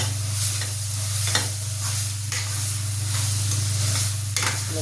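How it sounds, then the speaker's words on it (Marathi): Red chili thecha being sautéed with lemon juice and sugar in a pan, a steady close sizzle with occasional scraping stirs on top of a constant low hum, and no talking. "चांगलं परतून घ्यायचं."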